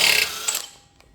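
A hand ratchet clicks loudly while working a bolt on a Honda GX690 engine muffler, a short burst of bright mechanical ratcheting that quickly dies away into faint ticks.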